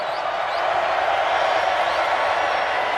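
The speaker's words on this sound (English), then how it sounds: "Here comes a Razorback crowd." A large Razorback football stadium crowd at an Arkansas home game roars in a steady, dense wash of cheering, loud and continuous with no breaks.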